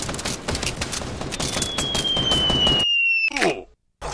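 Rapid bursts of automatic gunfire in Fortnite, dense and loud, ending in a sudden cutoff, with a thin high whine and a few more shots after a brief gap.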